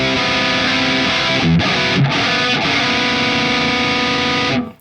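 Heavily distorted electric guitar played through an ML Sound Lab ROOTS Fluff amp plugin rings out as loud sustained chords, with a few brief chugging mutes before the sound cuts off at the end.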